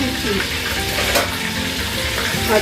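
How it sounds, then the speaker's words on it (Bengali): Rice grains with sugar frying in a pan and being stirred, a close, continuous loud sizzle with soft scraping movement throughout and no talking. "চালটা নাড়াচাড়া দিয়ে"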